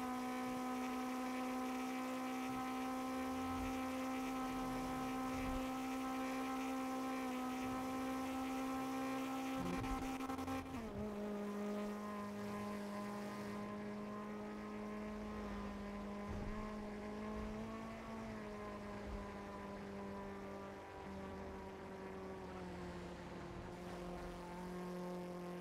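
A race car engine in GTA V on the NoPixel server drones steadily and loudly, holding a constant pitch before a gear change drops it partway through, then it keeps running at the lower pitch.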